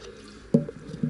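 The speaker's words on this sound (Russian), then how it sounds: "Обмываем со стенок стакана все это дело." Blending thinner rinsed around the walls of a paint cup, a short wet slosh followed by a faint smaller splash, quiet and close.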